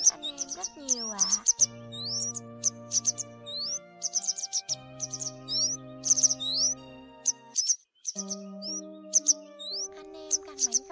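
Yellow wagtail calls, a bird-trapping lure recording for migratory netting, give repeated sharp chirps over continuous background music, loud and clear throughout.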